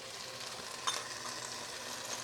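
Sauce poured into a sizzling pan of veggie and chicken stir fry, a steady close hiss of frying with a brief splashy burst as the liquid hits, no voices.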